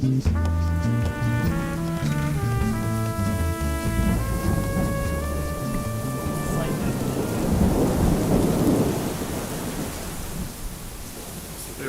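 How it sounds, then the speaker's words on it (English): A crazy storm blowing in over a Colombian mountain, with steady rain and low rolling thunder building to a loud swell near the end, mixed with tonal music in the first half. "but a storm blew in. Crazy storm."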